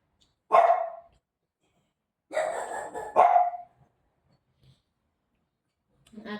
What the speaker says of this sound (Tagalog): Ang aking mga aso, maiingay.